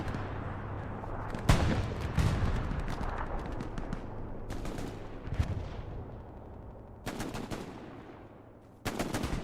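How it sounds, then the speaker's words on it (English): An aircraft strafing run in Hell Let Loose, the World War II shooter, on the Carentan map: bursts of heavy automatic gunfire rattle in several loud clusters over a rumbling battlefield backdrop, with gaps of quieter noise between volleys. "that is a strafing run"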